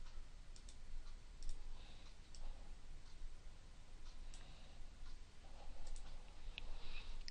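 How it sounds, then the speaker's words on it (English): Computer mouse clicks during desktop storyboard layout work, a scattering of soft, quiet clicks at irregular intervals over low background hum, with no voice. "Click, hold, and drag it into place."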